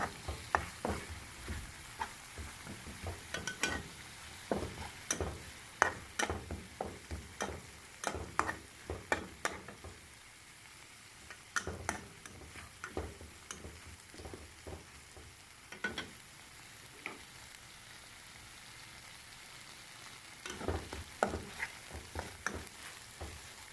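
Curry paste sizzles in hot oil in a pan while a spatula scrapes and stirs it in quick irregular strokes, with brief pauses between bursts. The sound is close and has no voices.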